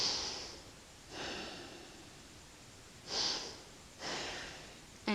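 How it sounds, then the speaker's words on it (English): Heavy breaths during a rest pause in a beginner bodyweight interval workout, four slow exhale-and-inhale swells spaced about a second apart, close and fairly soft, with a short sharp sound at the very end. "Take a few nice breaths here."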